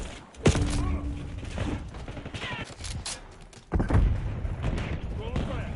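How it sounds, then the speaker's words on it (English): Hand cannon fire and other gunfire in a Call of Duty Black Ops 6 match: heavy booming shots and bursts, with a big blast near the start and another later, thick with game effects and voice chatter. "Using hand cannon."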